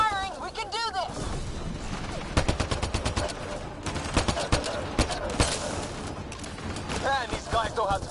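Rapid gunfire in the Mass Effect video game, dense volleys of sharp shots in quick bursts throughout, mixed with shouting voices and battle noise.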